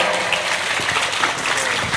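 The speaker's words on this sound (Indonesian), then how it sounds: "Tepuk tangan untuk mereka." Dense audience applause fills a lively gathering, many hands clapping together loudly and continuously for a short burst.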